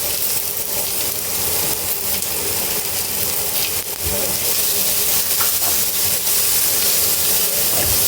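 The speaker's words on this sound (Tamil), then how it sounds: "வெங்காயம் போட்டு வதங்குவதும்" Onions sautéing in a pan for turkey biryani, a loud, continuous close sizzle and hiss with occasional stirring clatters throughout.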